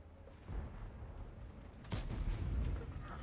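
A tank cannon firing in the World of Tanks video game, a sharp boom about two seconds in followed by a rumbling low tail over quieter engine-like background noise.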